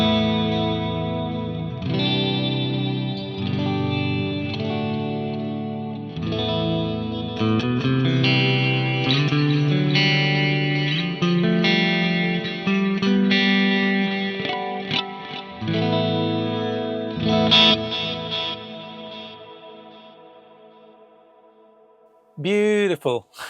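Electric guitar played through a Fractal Stratocumulus chorus preset on an FM3, FM9 or Axe-Fx, shimmering and swirling clean chords and melodic lines ringing for about twenty seconds before fading, with a voice at the end.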